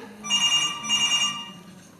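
A telephone rings in electronic double bursts, two rings close and clear with a pause between, then it falls quiet, with no talk over it.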